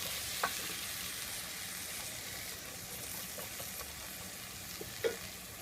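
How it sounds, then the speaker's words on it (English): Garlic frying in a pan gives a faint, steady sizzle, with a few soft clicks of stirring and a sharper tap near the end, and no voices. "Stir them up. So that the garlic doesn't burn."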